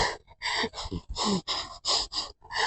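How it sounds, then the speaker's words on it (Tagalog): A person panting heavily after a walk-and-jog workout, with a rapid run of sharp gasping breaths close up, rising and falling in quick bursts and no talking. "Hingal kabayo tayo ngayon."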